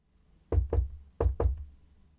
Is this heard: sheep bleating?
no